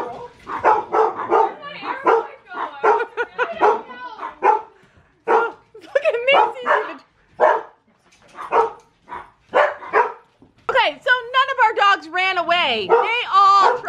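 Dogs barking during a home invasion at a house: loud, close bursts of repeated barks, some overlapping, ending with higher yips and whining.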